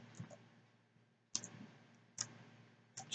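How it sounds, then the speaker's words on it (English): A password being typed on a computer keyboard, sparse clear keystroke clicks in small clusters with long pauses between them, close and fairly quiet, no speech. "Just type your password."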